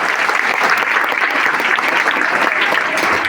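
An audience at a community educational event claps together in dense, sustained applause, loud and close, holding at an even level for the whole stretch without pause.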